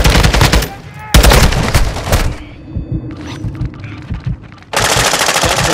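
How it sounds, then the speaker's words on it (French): Automatic gunfire in Call of Duty: Modern Warfare II, loud close bursts of rapid shots that stop, give way to scattered distant pops and thuds, then resume in a heavy sustained volley. "I'm taking fire!"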